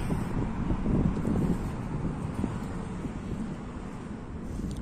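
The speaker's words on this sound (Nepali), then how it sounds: "हावा चलिरहेको छ" Wind blows steadily outdoors in Kuwait, hot like air from a brick kiln, giving a low rumbling buffeting against the microphone throughout with no speech.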